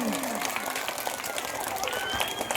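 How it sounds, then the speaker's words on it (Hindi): Crowd at a Jan Suraaj political rally in Phulparas applauding, a continuous, busy roar of many clapping hands mixed with crowd noise and voices throughout. "जोर से ताली बजबाक चाहिए"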